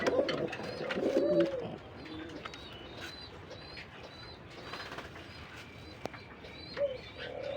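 A male pigeon gives low, throaty coos, loudest in a close burst at the start and then softer, with other birds chirping faintly around it in a pigeon-keeping setting.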